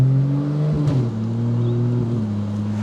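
AWD sleeper bus powered by a Ford Barra engine, pulling hard in first gear. A steady, loud engine drone rises in pitch as it accelerates, with a brief dip partway through.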